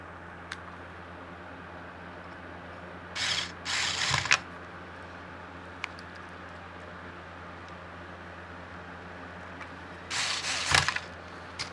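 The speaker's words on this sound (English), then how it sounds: "I'm gonna go ahead and put these screws back in" Screws go back into the power brick of a Millipede AR-II: two short bursts of ratcheting screwdriver clicks, a few seconds apart, against a quiet room hiss.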